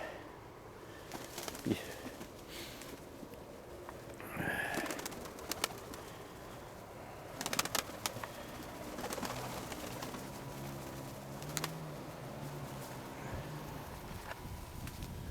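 Pigeons coo softly amid outdoor ambience, with a few bursts of wing flapping and scattered clatter; moderately faint, no talking.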